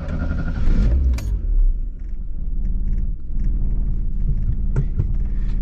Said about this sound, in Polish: Odpalamy samochód.